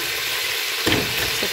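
Onions and potatoes fry in hot oil for a Tunisian rabbit stew, giving a steady, close sizzle that swells briefly with a stir partway through.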